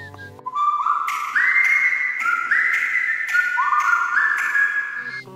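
A person whistling alone, repeating a rising-then-falling wolf whistle several times in succession, clear and close.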